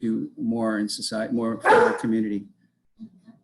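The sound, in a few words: dog barking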